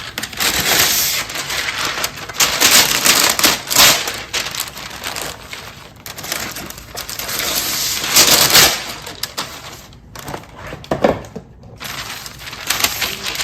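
Parchment paper being cut into a circle for lining a cake pan, giving a steady run of crisp crinkling, rustling snips close by, with brief pauses near the end.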